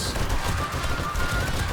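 Rapid gunfire in the video game 7 Days to Die, a dense, continuous stream of loud close shots cutting down a horde of zombies.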